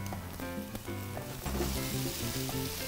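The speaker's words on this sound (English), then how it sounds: "The sauteing is my favorite part in cooking." Onions and tomatoes sautéing in a pan, a close, continuous sizzle with brief stirring scrapes and no talking.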